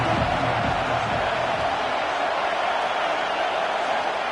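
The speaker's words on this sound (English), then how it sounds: "This crowd ready to make its presence known." A large college football stadium crowd roars in a steady, loud wash of noise, with a few louder bursts early on and no break in the din.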